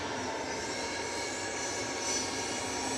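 A TUI airliner rolling down the runway for takeoff at Manchester Airport, a loud, steady broadband engine roar that swells slightly and holds throughout.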